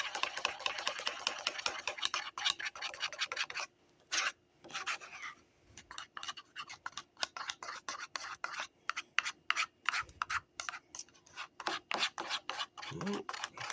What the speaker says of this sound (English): Probably would have been easier if I used a fork or maybe a whisk. Yeah, this is mixing up easily.